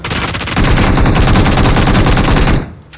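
Gunfire in the mobile game PUBG Mobile, loud rapid automatic bursts in a dense continuous stream lasting a couple of seconds before cutting off, no talking.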